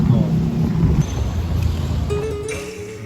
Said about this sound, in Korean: 바람이 너무 부는데?